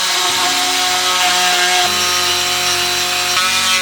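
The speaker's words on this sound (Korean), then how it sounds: "리드 스위치가 들어갈 부분을 트리머로 파냈습니다." A high, whining wood trimmer router grinds continuously into wood, carving a recess, its loud steady buzz shifting slightly in pitch as it cuts.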